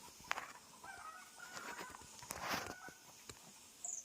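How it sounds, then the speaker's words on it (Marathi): Chickens cluck and squawk intermittently at a moderate distance, mixed with soft outdoor patter and rustling. "कोंबड्यांचा कोकाट झाला आहे किलबिलाट नाही कोकाट"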